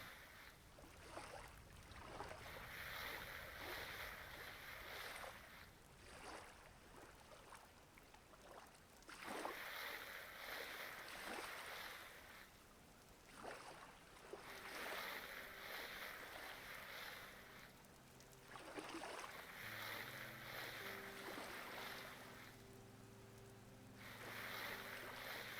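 A sailboat glides across water in the game Vintage Story, with soft lapping waves and wind rising and falling at low volume and no talking.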